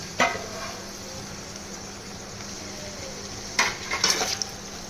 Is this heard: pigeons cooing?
no